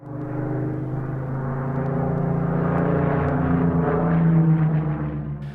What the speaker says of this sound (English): Supermarine Spitfire K9942, number 1 in the Institution of Mechanical Engineers' top 5 aircraft at the RAF Museum, Cosford